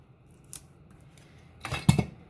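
Tape being pulled off and pressed down during a paper-crafting embossing setup gives a short tearing rasp followed by a louder stripping pull and tap, close up and brief, without speech.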